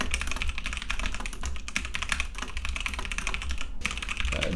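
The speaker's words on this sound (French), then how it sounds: "Voilà ce que ça donne avec le clavier et la souris quand on prend la parole" Fast, continuous typing on a computer keyboard, picked up by a Synco Mic-D2 microphone, forms a dense clatter of close key taps with only brief pauses.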